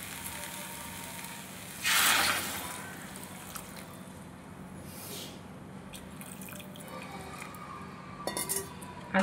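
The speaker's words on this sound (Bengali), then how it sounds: "এবার এর মধ্যে দিয়ে দেবো গরম জল।" Hot water poured into papaya cooking in a frying pan, a brief loud splashing pour followed by faint sizzling and a few clinks of utensils against the pan.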